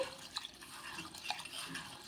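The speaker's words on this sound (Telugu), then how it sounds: "ఇప్పుడు రెండు మూడు సార్లు బాగా కడిగేసుకొని ఇలా చేతితో బాగా ప్రెస్ చేసుకుంటూ కడిగేసుకోవాలి" Soaked urad dal is washed by hand in water, producing soft, intermittent splashes and drips close by, with light sloshing and small squelching sounds as the lentils are pressed and rinsed.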